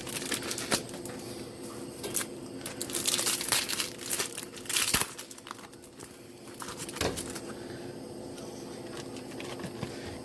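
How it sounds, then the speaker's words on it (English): Plastic sausage packaging crinkles and tears open close up, with crisp crackling bursts and rustling that swell and fade over several seconds, no talking. "Rip it open."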